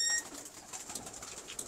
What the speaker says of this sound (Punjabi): ਇਹ ਡਫ ਵਾਲੇ ਕਬੂਤਰ ਹੈਗੇ ਨੇ